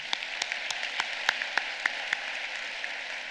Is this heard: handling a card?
no